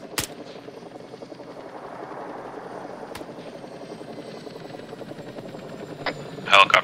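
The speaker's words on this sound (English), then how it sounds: "Helicopter's on us." A helicopter's rotor in the video game ArmA 3 chops steadily in the background throughout, with a few sharp gunshots cracking over it.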